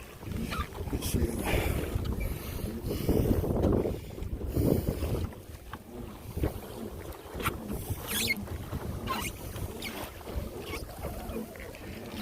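Old Town PDL pedal-drive kayak moving through water, with churning splashes and rushing water close by under buffeting wind noise and some talk.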